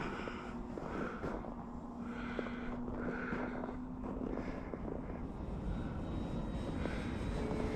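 Steady drone of an Extra 300 aerobatic airplane's engine in flight, fitted with skis, heard continuously from a distance with a slowly shifting pitch and some wind noise.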